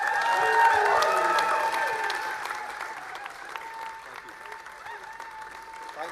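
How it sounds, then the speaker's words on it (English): Sustained applause fills a hall after Andy Burnham's by-election victory speech, loud at first and then slowly fading while remaining steady throughout, with a few voices calling out in the crowd. "Andy Burnham enjoying the applause"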